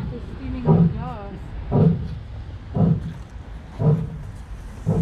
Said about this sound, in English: what's that lion looking at? Why is it come up to the glass making a noise?